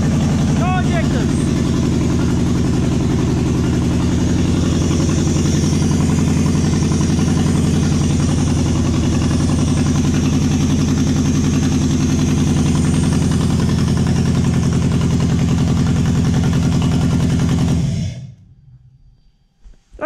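A Toyota 1UZ-FE V8 engine idles on only two cylinders, a loud, rough, rhythmic chugging drone that runs steadily before abruptly cutting out near the end.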